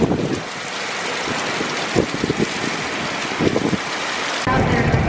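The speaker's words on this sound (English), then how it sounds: "Did you have to go out there just to make sure it was actually raining?" Rain falls outside on a farm during corn harvest, a steady broadband wash with a few soft thumps and gusts, heard close and continuous with no talk.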